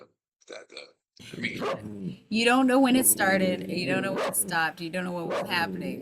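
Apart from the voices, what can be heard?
dog barking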